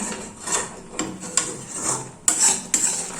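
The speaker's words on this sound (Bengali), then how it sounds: "তার আগে আমি কড়াইয়ের সাইডে যেইগুলো লেগে আছে সেইগুলোকে এক জায়গায় করে নিচ্ছি।" A spoon scrapes thickened kheer from the sides of a kadai in a kitchen, giving several distinct metallic scrapes and knocks, close and alone with no talk.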